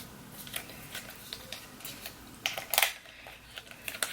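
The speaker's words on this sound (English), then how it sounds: "So let's unwrap this bad boy." A new iPad Pro being unwrapped from its packaging, a string of soft crinkles, scrapes and light ticks, some quick and close, with a brief louder rustle of plastic or paper near the middle.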